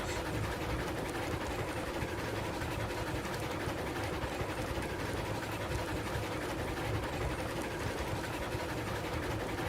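A steady, continuous mechanical rumble and chug of a steam locomotive running in the video game Railroads Online, unbroken and fairly even throughout, with no voices.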